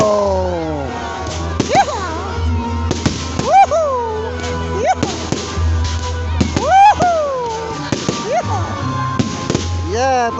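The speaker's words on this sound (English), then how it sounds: "Woking Park fireworks." A fireworks display at Woking Park in the UK, with repeated sharp cracks and pops going off irregularly over several seconds, while people nearby shout and talk excitedly over the bangs.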